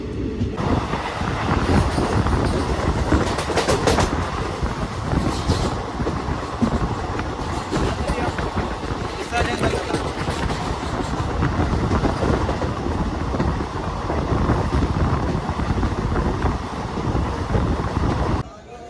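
A train rumbles steadily along the rails with rhythmic clattering and rushing noise, loud and close, during heavy monsoon rain on the Thane to Kankavli line, while voices are faintly mixed in.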